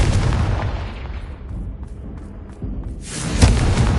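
Fiery Confringo spell blasts in Hogwarts Legacy on PS5: loud booming bursts with a rumbling low-end tail, a dip into quieter ambience midway, then another strong blast near the end, no talking.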